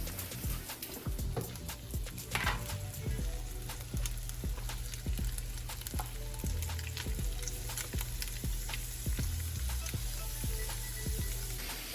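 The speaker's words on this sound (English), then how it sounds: "then we put the shrimp into the pan" Raw shrimp hitting a hot pan at home sizzle and crackle steadily, close and bright, with scattered sharp pops and spatters over a continuous frying hiss and occasional clinks of cookware.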